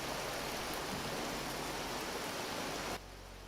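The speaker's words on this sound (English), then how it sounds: "there's a lot of rain over here" Steady rain in the game Vintage Story, a dense even hiss pouring down continuously, then dropping abruptly to a quieter wash near the end.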